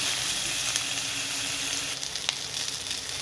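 Onion and green chili fry in hot oil for a pea curry masala, making a loud, continuous, close sizzle with a faint crackle all the way through.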